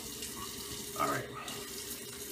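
A bathroom tap runs briefly into a sink as alum is rinsed off after a shavette shave, a faint, steady splash of water with a short louder surge.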